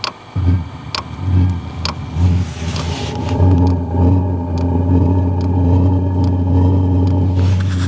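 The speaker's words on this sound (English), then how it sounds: "we can get the heater fired up and get it nice and toasty in there" A diesel heater in a truck starts up with a few sharp clicks, then settles into a steady, loud low drone and whir, close by with no talking.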